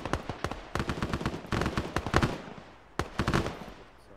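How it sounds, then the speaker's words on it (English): Rapid bursts of automatic gunfire crackle in the Arma 3 military game, sharp repeated shots in dense volleys with short pauses between strings, loud and close, with no talking. "Bravo is putting down fire on those tentacles"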